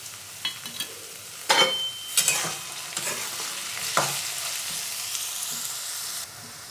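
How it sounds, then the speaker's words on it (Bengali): Sliced onions, cashews and green chillies fry in oil for a Mughlai mutton curry, with a soft continuous sizzle broken by several scraping stirs of a spoon in the pan. "এর সঙ্গে 15টা কাজু আর 6-7টা কাঁচা লঙ্কা এগুলো একসঙ্গে ভেজে নেব।"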